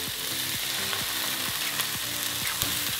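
Eggs cracked over vegetables frying in a hot pan, a dense, steady sizzle and crackle heard close up with no talking.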